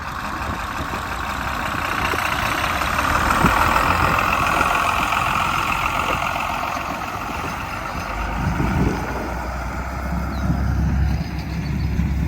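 Old John Deere 4040 tractor engine running steadily at a low idle on a hay farm, a continuous diesel rumble heard from nearby with no talking.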